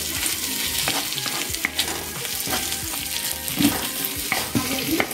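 Baby corn chili with onions being stirred in a hot frying pan, a loud continuous sizzle broken by repeated scrapes and taps of the spatula against the pan, and no voices.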